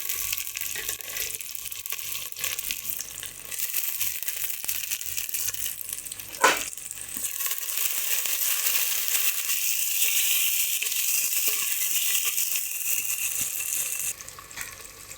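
Chopped tomato hits a hot frying pan for a fish curry, setting off a loud, steady hiss of sizzling, broken once midway by a single knock against the pan.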